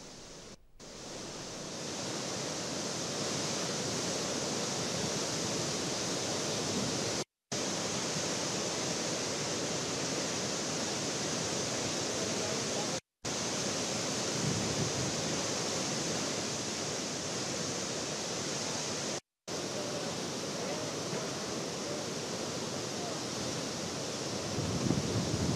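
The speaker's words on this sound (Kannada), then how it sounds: "ಸದ್ಯಕ್ಕೆ ಪ್ರಾಯೋಗಿಕವಾಗಿ ಇಷ್ಟು ಪ್ರಮಾಣದ ನೀರು ಕೆಆರ್ಎಸ್ ಇಂದ ಹರಿತಾ ಇದೆ" Water released from the KRS dam into the Cauvery river roars as a steady, dense rushing wash, loud and unbroken except for a few brief cuts, with no voices.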